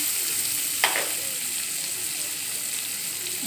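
Tomatoes and onions sauté in an oil-filled pan, giving a steady broadband sizzle throughout with one brief scrape of a spoon early on; close and continuous, with no voices.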